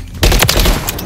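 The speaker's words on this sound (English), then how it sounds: "Taking effective fire!" Heavy gunfire erupts in Call of Duty MWIII hardcore multiplayer, starting with a loud, dense burst of overlapping shots and booms that then continues as sustained firing.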